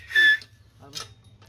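A short, bright whistle rings out close by, followed by a brief breathy sound and a second quick, softer whistle.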